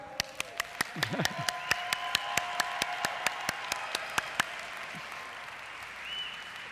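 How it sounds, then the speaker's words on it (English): Audience applause for an essential oil expert builds under a steady, sharp rhythmic clicking, with a faint voice and tonal background sound mixed in before the clapping fades toward the end. "So let's give him a strong applause."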